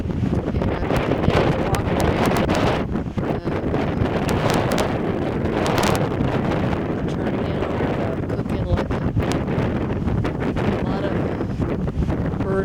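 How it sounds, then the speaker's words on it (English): Wind blows hard outdoors in Alaska, buffeting the microphone with a constant loud roar and gusty rumble that continues without a break. "Probably hear the wind blow."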